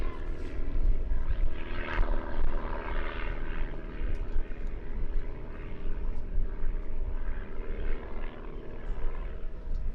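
Propeller airplane flying low and climbing steeply at the Apple Valley air show, a loud continuous engine drone and rumble that holds steady throughout, with the crowd audible underneath.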